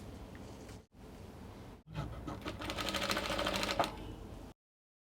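A sewing machine stitches bias binding onto a dress neckline in short runs, briefly stopping twice before a longer, faster burst of rapid needle chatter, close and fairly quiet.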